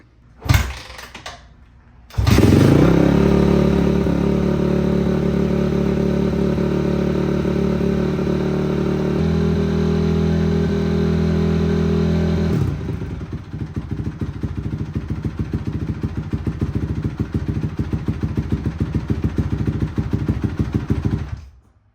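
A Honda CRF250R dirt bike running on choke, its engine catching after a few brief starts, then holding a loud, steady, rich idle with a slight pitch shift before settling into a rougher, pulsing idle to the end.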